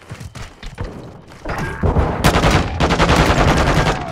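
Heavy automatic gunfire in the shooter Call of Duty Modern Warfare, loud rapid bursts and thudding impacts building into a sustained barrage, with no talking over it.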